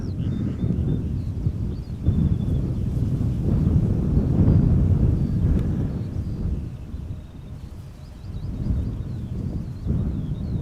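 An Embraer 190 airliner on arrival at Amsterdam Schiphol, a steady low rumbling roar that swells and eases across the whole stretch, with faint high whines drifting above it and no talk.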